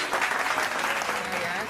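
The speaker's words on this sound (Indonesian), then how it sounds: "Oke, tepuk tangan." Steady applause from a small crowd, continuous clapping for under two seconds with some voices mixed in.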